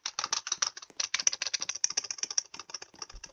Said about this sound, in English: My my keyboard is super loud.